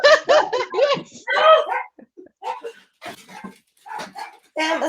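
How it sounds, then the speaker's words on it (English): Dogs bark in repeated bursts indoors, close and loud, mixed with people laughing and talking. "If it's not the kids, it's the dogs."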